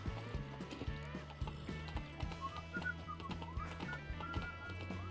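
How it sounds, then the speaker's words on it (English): Roach, a horse in The Witcher 3 video game, clip-clops along in a steady rhythmic gait with whinnying and neighing over it, fairly close, with some mechanical clicking and faint background tones. "A ver si puedo llamar al caballo."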